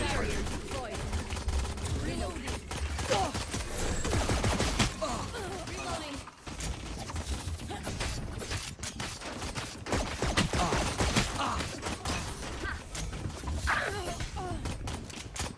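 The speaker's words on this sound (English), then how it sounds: "Let the bullets fly." Rapid automatic gunfire from the Valorant video game during a VCT Pacific Kick Off match, dense bursts of shots repeating loudly across the whole stretch, with commentary voices and game sounds mixed underneath.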